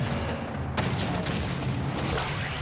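A loud, booming goal explosion with a fruit theme in the Rocket League video game, with sharp crashing bursts over a dense, continuous layer of game noise.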